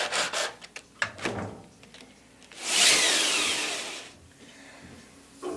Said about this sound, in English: I'm probably better off removing the squeeze out with my sander